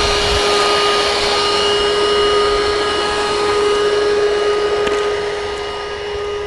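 An old household vacuum cleaner runs in a steady, loud, close drone with a constant motor whine that holds unbroken throughout, with no voices.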